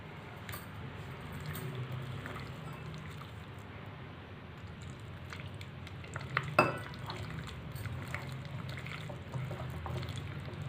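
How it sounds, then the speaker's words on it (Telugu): Millet and banana bajji batter is stirred in a bowl to work out lumps, a soft continuous wet mixing sound with a few light clinks of the spoon against the bowl. "ఉండలు లేకుండా చూసుకుని మనం కలుపుకోవాలి"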